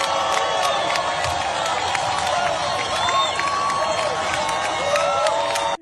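A large crowd at a political rally cheers and claps loudly and continuously, with whistles and shouts mixed in, before cutting off abruptly at the end.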